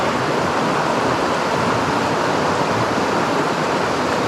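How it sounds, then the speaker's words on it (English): A steady, dense rush of a small waterfall on the Cataract River, Australia, constant and close, with no other sounds breaking through. "Little waterfall up here."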